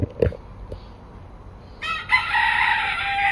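A rooster crows loudly and close by in one long, sustained call that follows a few faint clucks and knocks.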